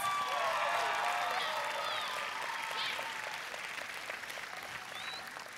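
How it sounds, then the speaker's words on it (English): An audience at a school drama performance of Aladdin applauds elementary-age performers, with a dense, steady wash of clapping and some cheering that fills the whole stretch and tapers slightly toward the end. "Give our elementary kids another round of applause."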